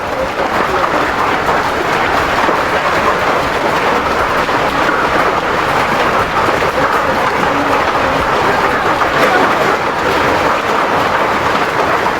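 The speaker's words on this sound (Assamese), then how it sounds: "নিশা এইদৰেই প্ৰচণ্ড শিলাবৃষ্টিৰ সৃষ্টি হৈছিল ৰাজ্যৰ কেইবাটাও প্ৰান্তত" A heavy hailstorm pounds down in a continuous, dense roar of hard impacts, steady and loud throughout with no pause.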